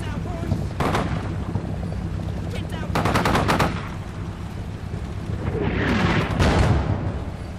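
Gunfire in the PC war game Combat Mission: Shock Force 2, with British forces under fire as rounds pass overhead: loud bursts of automatic fire, then short rattling volleys set against a steady low engine rumble.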